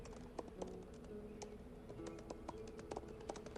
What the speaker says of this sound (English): that's such a loud keyboard